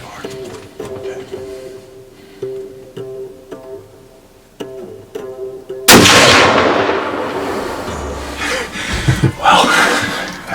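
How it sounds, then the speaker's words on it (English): A single loud rifle shot fired at a whitetail buck during an Illinois deer hunt, cracking sharply after quiet whispered talk and leaving a long rolling echo outdoors. "I think we got a shot off it."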